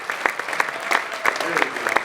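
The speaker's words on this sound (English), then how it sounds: "let's give a round of applause for our current Hall of Famers" An audience applauding Hall of Famers at a Seton Hall Athletics induction ceremony, with sharp, individually audible claps from a modest crowd sounding close and lively.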